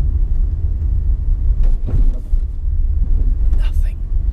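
A Renault ZOE electric car rolls over a speed bump, a steady low road rumble inside the cabin with a soft, brief thump partway through and faint murmurs.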